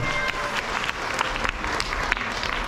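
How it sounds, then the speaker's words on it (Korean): An audience at a children's talent show claps steadily, a dense patter of applause from a crowd filling the room. "인천에서 오신 가족에게 박수 한번 보내주시면 감사하겠습니다"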